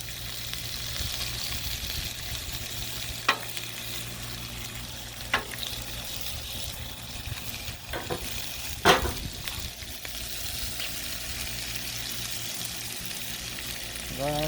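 Vegetables and bacon frying on a griddle outdoors in the morning, a steady close sizzle with occasional scrapes and clinks of a utensil stirring the food.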